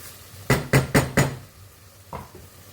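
Carrots stirred in a cooking pot with a utensil: four quick, evenly spaced knocks against the pot, then a softer single knock after a short pause.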